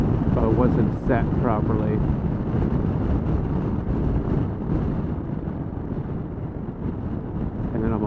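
Heavy wind buffeting roars steadily around a helmet while riding a motorcycle on a windy day, a broad rushing noise with someone talking over it throughout.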